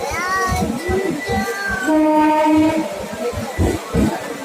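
A moving train rumbles and clatters steadily from up close, and a long, tonal horn blast rings out over the running noise.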